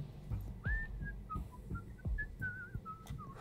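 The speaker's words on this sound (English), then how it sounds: "Whistling cheerfully." A character whistles a cheerful, wandering tune in the game Whispers of a Machine, the melody clear and steady over soft thumping background music, with no talking.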